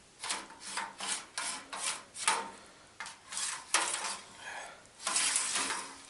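A cheese harp is turned through a set curd of Swiss Piora cheese to cut it, giving a run of rhythmic wet rasping and scraping strokes, roughly a dozen close swishes in quick succession with no talking.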